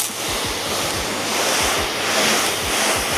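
A pressure washer rinses water off the paintwork of a Bordeaux Range Rover P38 barn find, producing a loud, steady hiss of spray that swells slightly and never stops.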